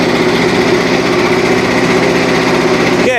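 A Frontier sawmill engine running hard at high throttle in freezing winter cold, a loud, steady, buzzing drone close by with a rapid even pulse, briefly shifting at the very end.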